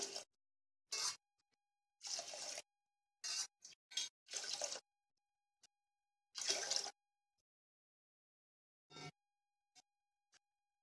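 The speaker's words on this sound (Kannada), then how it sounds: "ಆರು ಲೋಟದಷ್ಟು ನೀರು ಹಾಕ್ತಾ ಇದ್ದೀನಿ" Water pours into a pressure cooker pot of rice and split mung dal in several separate bursts, each a few seconds of splashing, with quiet pauses between them.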